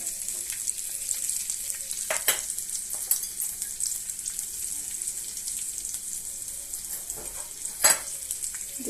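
Chopped onions and chilies fry in hot oil with a constant close sizzle, broken by a few sharp clatters of a spatula against the pan.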